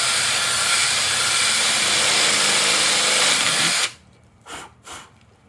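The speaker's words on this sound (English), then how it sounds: "I'm just gonna drill a hole." A power drill whirs loudly and continuously for several seconds while drilling a hole in a metal jar lid, then stops abruptly, followed by two short bursts of noise.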